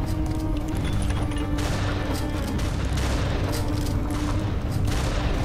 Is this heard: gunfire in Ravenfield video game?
yes